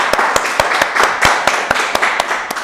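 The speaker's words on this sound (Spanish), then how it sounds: "¡Aplauso!" A few people clap in sharp, separate, fairly close slaps with an uneven rhythm, about a dozen claps over a couple of seconds rather than a full crowd's roar.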